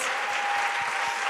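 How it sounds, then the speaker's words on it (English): An audience at a debate event applauds the debaters, a dense, even, continuous round of clapping heard from within the crowd, with no voices over it. "Please, first, give a huge round of applause to the debaters."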